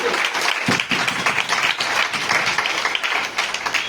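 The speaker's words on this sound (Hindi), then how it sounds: "हम चाहेंगे इन सभी लीडरों के लिए एक जोरदार ताली से" An audience at a business event in Varanasi gives loud, dense applause for a group of leaders, many hands clapping close and steadily throughout with faint cheering mixed in.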